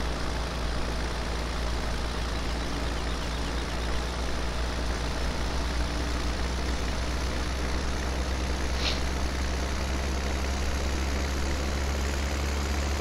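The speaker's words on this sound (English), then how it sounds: "Oh boy, the tractor is definitely struggling." Farm tractor engine labouring under load in Farming Simulator 17 while working uneven field ground, a steady deep drone with a constant low rumble and no pauses.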